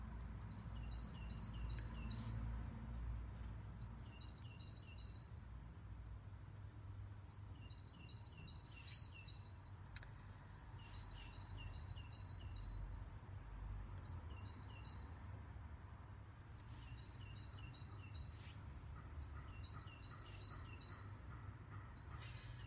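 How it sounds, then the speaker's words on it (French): Small bird singing repeated short, high chirping phrases at a steady pace throughout, moderately distant, over a constant low background rumble and no talk. "Vous entendez l'oiseau?"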